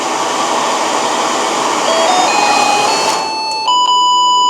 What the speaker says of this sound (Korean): 경보 한번 울려볼까요?